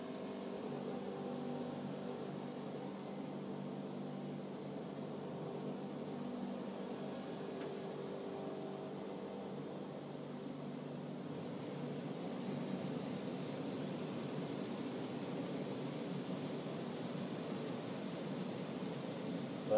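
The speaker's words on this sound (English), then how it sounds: "It's like a hair dryer, a big hair dryer for cars." A big car wash air dryer blows over a car, a steady broad roar of rushing air that holds constant throughout, close and fairly loud, with no voices.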